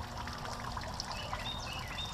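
Water trickling steadily in an outdoor fountain or wishing well, a continuous close babbling flow with a few faint bird chirps and no talk.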